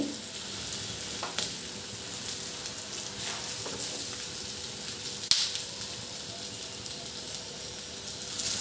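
Stuffed bitter gourds fry in hot oil with a steady, close sizzle that hisses throughout, broken only by a few soft clicks. No voices are heard.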